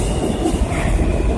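A subway train rolls past on its rails underground, a loud, steady rumble with rail clatter that fills the whole stretch with no one speaking.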